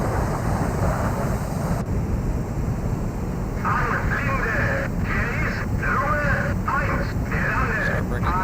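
A fighter plane's engine drones steadily in the IL-2 Great Battles flight game during a landing approach, a loud, constant low roar with wind rush and a few faint higher tones.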